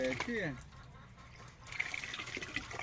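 A hand-operated water pump fills a bucket. A short voice comes first, then a steady, fairly quiet splash and gush of water runs into the bucket.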